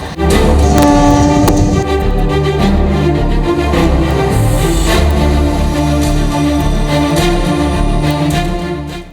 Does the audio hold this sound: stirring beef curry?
no